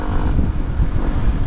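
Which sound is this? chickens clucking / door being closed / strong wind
strong wind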